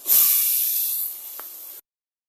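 Loud, close frying sizzle as bori are dropped into sautéed potatoes in a pan, a bright hissing burst that holds steady and tapers slightly before cutting off.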